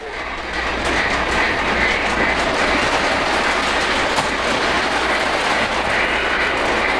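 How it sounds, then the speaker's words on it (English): A model freight train runs steadily along its layout track, a continuous close clickety-clack of small wheels on rails with faint metallic squeal, starting after a brief quieter moment. "Freight train is connected. Let's get it going."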